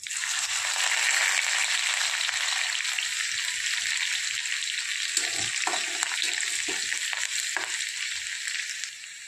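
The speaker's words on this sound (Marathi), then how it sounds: "तेल गरम झाले, 1/2 चम्मच जिरे, कढीपत्ता आणि लसूण" Cumin, curry leaves and garlic fry in hot oil for a bitter gourd dish, a loud, steady sizzle throughout with a few soft scrapes and knocks toward the middle.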